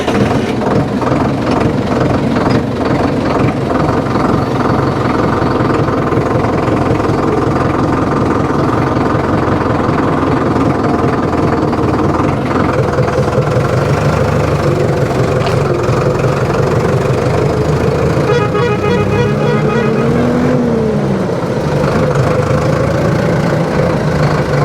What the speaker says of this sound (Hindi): तो हम भी थोड़ा चला के देखते हैं ट्रैक्टर।